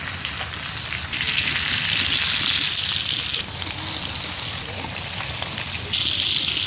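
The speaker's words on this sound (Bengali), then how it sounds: "সয়াবিন তেল, তেল গরম হয়ে গেছে, মাছগুলো দিয়ে দিছি।" Whole hilsa fish fry in hot soybean oil, giving a loud, close, continuous sizzle and crackle that swells in bright bursts as oil is spooned over.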